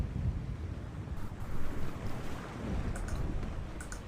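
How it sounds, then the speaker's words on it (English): A chaos storm in The Longest Journey video game, with a steady roar of wind and deep rumbling like distant thunder, building in waves for a few seconds with no voices. "A storm approaches, April, and it is no ordinary storm"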